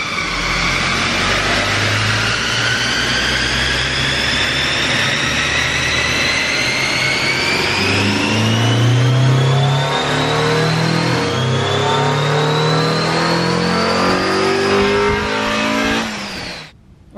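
A supercharged car engine revs hard during a power test measuring supercharger draw, with a short intake fitted; a loud sustained roar climbs steadily in pitch with rising supercharger whine, then cuts off abruptly at the end.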